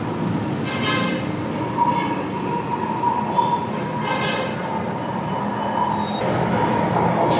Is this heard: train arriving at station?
yes